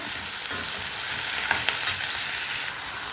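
Mint and coriander sautéing in sesame oil for a chutney, a steady bright sizzle with a few soft clicks of a spoon stirring the pan, close and continuous.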